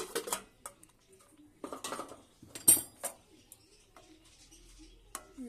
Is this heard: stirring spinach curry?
yes